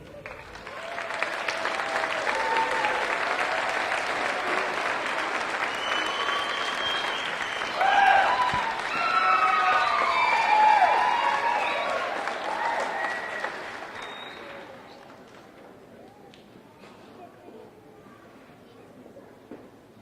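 A large crowd at a Master of Arts commencement ceremony applauds in a dense, sustained roar of clapping with some cheering, fading out near the end.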